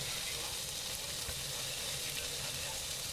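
Mini peppers and green asparagus sizzle steadily in a pan with a little coarse salt and very little fat, a continuous close frying hiss with no speech.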